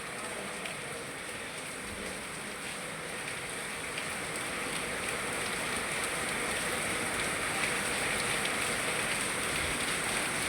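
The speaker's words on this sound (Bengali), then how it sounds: "অঝরে বৃষ্টি হচ্ছে" Heavy rain pours down steadily, a dense, even hiss of drops drumming on surfaces, loud and continuous throughout with no voices.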